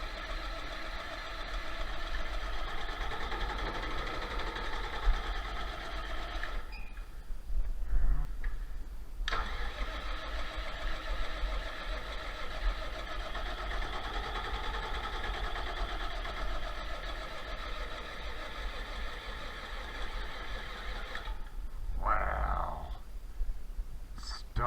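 A John Deere 4020 tractor diesel engine cranks steadily after its injectors have been bled, a long droning starter grind broken by a couple of short pauses, then a final burst of cranking, close and loud throughout.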